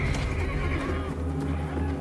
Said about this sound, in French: Et alors parut un cheval blanc.